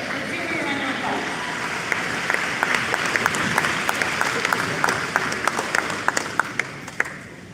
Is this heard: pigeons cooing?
no